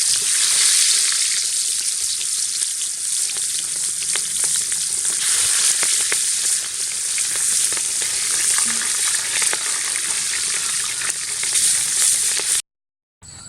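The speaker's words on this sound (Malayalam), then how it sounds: "ഒരു പാത്രം വെച്ച് അതിലേക്ക് ഓയിൽ ഒഴിച്ചിട്ട് നമുക്ക് ഇങ്ങനത്തെ ചിക്കൻ പൊരിച്ചെടുക്കാം." Chicken fries in a pot of hot oil, giving a loud, dense, continuous sizzle that holds steady throughout and cuts off abruptly at the end, with no speech.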